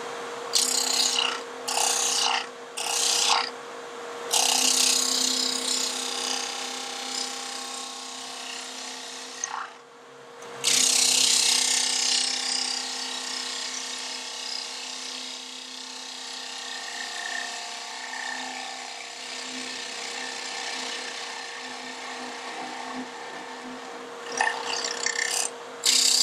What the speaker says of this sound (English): I'll go back to the 3/8 gouge because I'm comfortable with it.